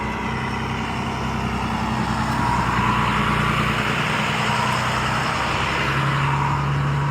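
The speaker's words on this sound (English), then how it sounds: "would you have noticed that armored truck, as loud as it was, driving through the middle of a college campus" An armored truck rumbles past through a college campus, its engine drone loud and continuous for several seconds, swelling slightly midway.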